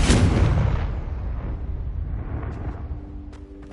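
A Confringo fire spell explosion in the video game Hogwarts Legacy starts with a loud, close boom, then rumbles down into a long fading roar.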